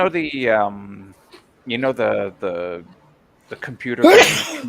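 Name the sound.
sneeze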